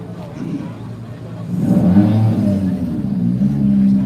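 An M-Sport Ford Rally2 car drives off at a rally opening ceremony, its engine rising into a loud, steady rev that builds midway and holds, heard close.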